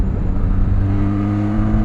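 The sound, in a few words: Benelli TRK 502 X motorcycle engine revving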